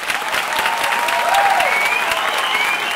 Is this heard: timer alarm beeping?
no